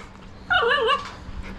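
A puppy whimpers in a single high, wavering whine of about half a second, close and clear over a quiet room with a faint low hum.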